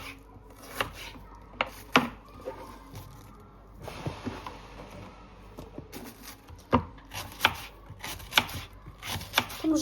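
A knife slices vegetables, apparently potatoes, on a cutting board in a home kitchen: irregular crisp, close chops and taps with short pauses, and no talking.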